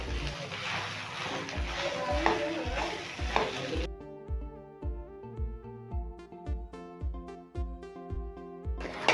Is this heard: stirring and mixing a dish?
yes